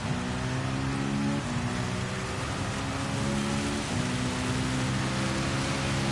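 Steady rain hisses over a racing car in a sim racing game on a wet track, with a droning engine note that dips and climbs as the car shifts and accelerates, continuous throughout.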